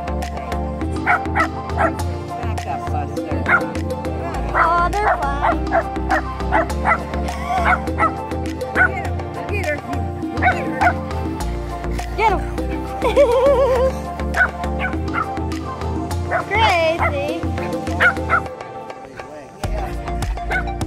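A pug and a West Highland terrier bark, yip and whimper excitedly, loud and close, in near-continuous bursts. People talk and laugh in the background.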